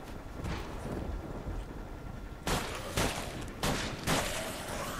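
A few sharp gunshot bursts ring out in the video game Deadlight in the second half over a steady game-like background rumble, spaced irregularly, with no one speaking.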